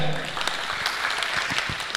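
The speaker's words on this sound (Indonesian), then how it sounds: "Tepuk tangan untuk kalian" A crowd claps steadily, a dense patter of many hands at moderate volume.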